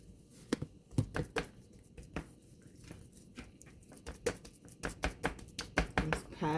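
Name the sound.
hands patting seasoning onto a whole chicken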